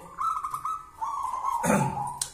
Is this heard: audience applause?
no